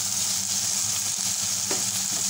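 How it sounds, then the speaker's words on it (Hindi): Chicken pieces fry with ginger garlic paste and salt in a pan, giving a loud, steady, close sizzle with a low hum beneath it and no talking. "और इसे गोल्डन फ्राई करूंगी।"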